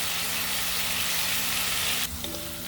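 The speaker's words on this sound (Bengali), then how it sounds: "পেঁয়াজগুলো ভাজা হয়ে গেছে এভাবে।" Onions fry in oil in a pan with a steady, close sizzle that shifts near the end as the pan is disturbed, bringing a few clinks and a softer hiss.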